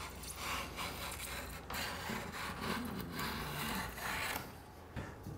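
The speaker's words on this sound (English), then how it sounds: "cut the glue off with a chisel" A chisel scrapes and pares dried glue off the wooden frame of a skin-on-frame kayak, with repeated rough rasping strokes, close and steady with short pauses between passes.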